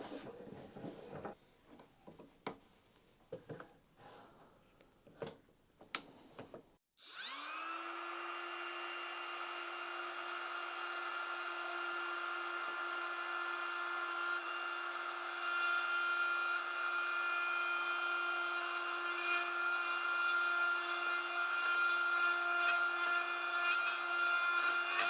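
A handheld wood router set in a router table enclosure, from a budget Banggood woodworking kit, first makes a few scraping knocks. Then its motor spins up into a loud, steady, high-pitched whine that holds without pause to the end.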